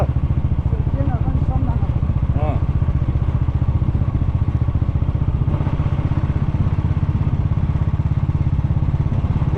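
A motorcycle engine chugs steadily and loudly throughout, with rattling clatter and occasional thumps from a bumpy ride, and faint voices in the background.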